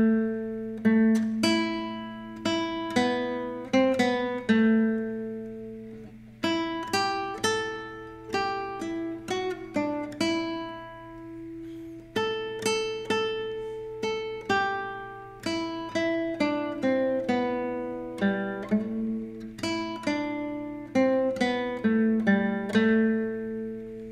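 Solo guitar plucks the Scarborough Fair melody, a Renaissance tune, as single notes over a sustained low drone, at a steady moderate pace and close by, with no talking.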